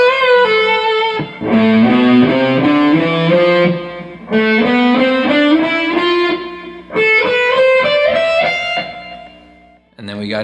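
Electric guitar with distortion playing minor scale licks in three loud phrases, each of sliding, rising note runs and sustained tones, with a brief gap before the last note.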